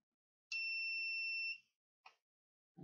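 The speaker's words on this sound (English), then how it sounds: "the light comes on and the buzzer sounds" A single electronic buzzer tone from a push-button-controlled Raspberry Pi circuit sounds for about a second, shrill and steady, followed by brief faint noises.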